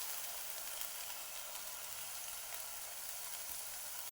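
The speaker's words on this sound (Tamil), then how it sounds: "பாதாம் முந்திரியை வதக்கிக்கலாம். லைட்டாக ஃப்ரை பண்ணிக்கலாம்." Almonds and cashews fry lightly in ghee, giving a steady, quiet sizzle that runs evenly throughout with no talk.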